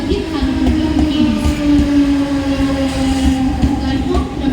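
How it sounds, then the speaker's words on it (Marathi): A Mumbai Central line local train rolls in at a station platform, a loud continuous rumble with steady wheel and motor hum and faint rail clicks, close and alone without talk. "प्लॅटफॉर्म क्रमांक 1 वर आलेली लोकल 10:14 कल्याण"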